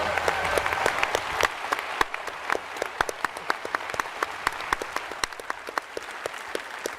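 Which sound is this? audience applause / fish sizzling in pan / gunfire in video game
audience applause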